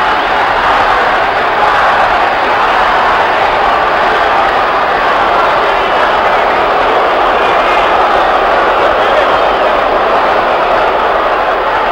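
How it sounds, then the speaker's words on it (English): A loud arena crowd roars without a break at the Ali vs Frazier 'Thrilla in Manila' boxing match in 1975, a dense, unbroken wash of cheering and noise. "Ali leading his own cheering."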